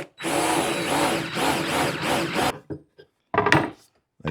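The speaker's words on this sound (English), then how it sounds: "put the point of the Forstner bit there, and drill through" A Forstner bit grinds through wood under a power drill, a loud continuous whir with rhythmic chatter for a couple of seconds before stopping, followed by a few brief knocks and scrapes of the workpiece.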